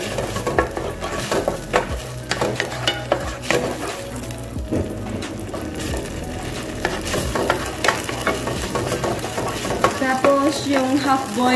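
Half-boiled spaghetti stirred through tomato paste sauce in a hot pan, a steady close sizzle broken by repeated scraping and clinking of a utensil against the metal, with no talk.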